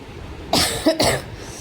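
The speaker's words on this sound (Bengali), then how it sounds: "আমার একটু কাশি হয়েছে তো সেই জন্য বারবার হয়তো ভয়েস ওভারে তোমরা কাশি শুনতে পারবে" Two sharp coughs from a woman with a cold, close and loud, in an otherwise quiet room with no talking.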